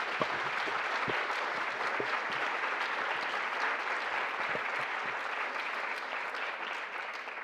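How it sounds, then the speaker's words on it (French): A conference audience claps for contributors at a nature talk, producing a continuous, moderately loud patter of many hands that holds evenly for the whole span without speech. "On peut déjà les applaudir pour toutes ces contributions."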